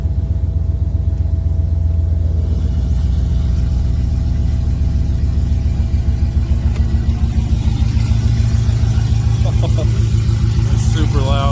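A Ram 1500 fitted with Doug Thorley 1 3/4-inch catless headers idles with its exhaust cutout open, producing a loud, steady, deep pulsing rumble that continues throughout without letting up.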